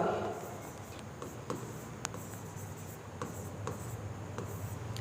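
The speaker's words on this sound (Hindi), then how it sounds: "यहाँ पे मैं लिख देता हूँ" Pen or marker writing on paper during a Bihar geography lesson, producing soft scratchy strokes with a few sharper taps, fairly quiet with a steady room hiss behind it.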